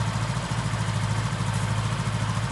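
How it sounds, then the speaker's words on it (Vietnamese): Honda Novo Fi motorcycle engine idling steadily, a close, even low putter holding the same pitch and rhythm throughout with no talk over it. "xe đang nổ máy nha"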